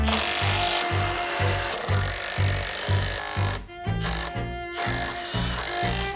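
A power drill grinds loudly and steadily with repeated rhythmic bursts as it bites into wood for anchor bolts, close up, with a brief pause near the middle.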